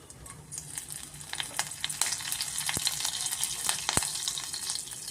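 Curry leaves, cumin and mustard seeds crackle and sizzle in hot oil, tempering a vegetable dal khichdi; a steady, close frying hiss with sharp pops scattered throughout.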